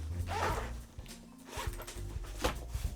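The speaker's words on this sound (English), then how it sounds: "a little zipper pouch for baggies" Zipper being pulled open and shut on a small pouch inside a watch storage case, with several quick rasping strokes close up and no talking.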